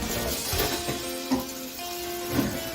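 Chicken pieces for sesame chicken fry in hot oil in a pot, giving a steady close sizzle with a few louder pops and crackles.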